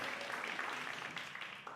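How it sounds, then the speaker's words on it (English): An audience gives a big round of applause, a dense, steady wash of clapping at moderate distance that carries evenly throughout. "Big round of applause."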